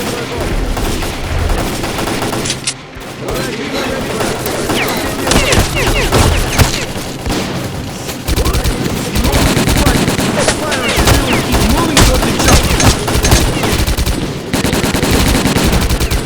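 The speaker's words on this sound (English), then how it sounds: "we're taking heavy fire from an unidentified enemy" Heavy, sustained automatic gunfire from the Stalker: Call of Pripyat final battle rattles in dense bursts almost without pause, loud and close, with occasional heavier booms and brief faint voices mixed in.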